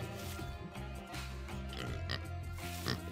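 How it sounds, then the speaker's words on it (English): Pigs oinking in the village-building strategy game Bronze Age, a few short grunts set against steady looping game music that continues throughout at low volume. "These pigs aren't coming to my pasture."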